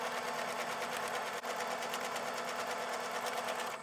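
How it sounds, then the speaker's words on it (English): A sewing machine stitches quilt block fabric in a steady, fast, even mechanical whir that runs close and continuous for a few seconds before stopping. "Now we're gonna sew 1/4 inch on the inside of this line."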